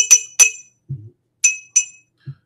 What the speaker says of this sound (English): It's a glass cork, my man